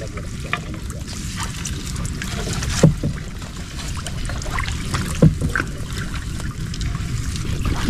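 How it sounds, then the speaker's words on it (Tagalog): A strong river current rushes and flows steadily, a dense, continuous wash close by with a couple of brief knocks against it. "Medyo malakas pa talaga yung agos."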